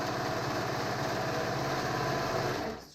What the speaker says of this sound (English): For today's steps I'm going to be using my serger.